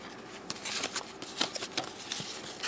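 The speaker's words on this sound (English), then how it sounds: "let me just shuffle these for you." Tarot cards being shuffled by hand, a close, quiet run of soft riffling and slapping bursts at an uneven rhythm, with no talk over them.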